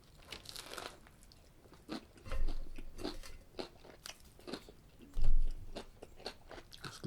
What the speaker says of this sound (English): Y'all hear them crunchy vegetables?